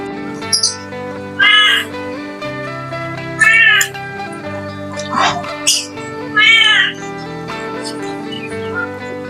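Several cats meow repeatedly in short, loud calls spaced a second or two apart, close by, over a steady background hum.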